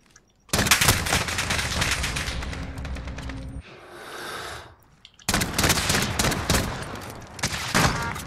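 Rapid bursts of gunfire in a Modern Warfare Search and Destroy match, including Desert Eagle pistol shots, loud and dense in two long stretches separated by a short, quieter gap.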